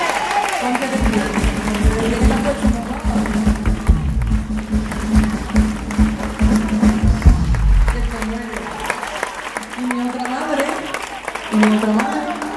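Audience applause in a live a cappella concert setting, a crowd clapping steadily for the singer's mother while voices and a man's speech carry loudly over the clapping throughout.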